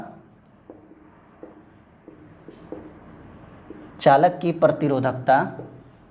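Chalk or marker scratching across a board during a Hindi-language physics lecture on Ohm's law, a string of short light strokes in a quiet room, followed by someone speaking over the last few seconds.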